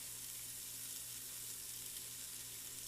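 Spicy seasoned sausage browns in a pan with a steady, close, even sizzle that crackles continuously and never lets up, with no voices over the frying.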